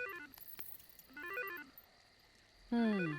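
A phone rings with a melodic electronic ringtone, rising tone patterns repeating in short bursts with gaps between, ending on a louder, stronger ring.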